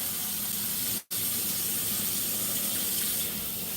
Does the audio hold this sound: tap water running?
yes